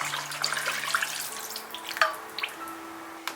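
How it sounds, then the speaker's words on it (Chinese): Clean water poured into a small ceramic stew pot for pork heart soup, with a gentle trickling and splashing close by that rises in pitch as the pot fills, no talking. "最后加入适量清水"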